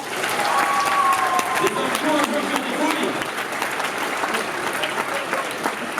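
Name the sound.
audience applauding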